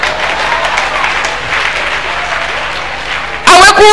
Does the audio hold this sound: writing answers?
no